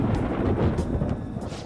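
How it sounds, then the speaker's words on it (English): Rolling thunder rumbles continuously before rain in the video game Persona 5 Royal, a deep, steady roar with a few brief sharper cracks, loud and alone with no talk. "It sounds like it's going to rain."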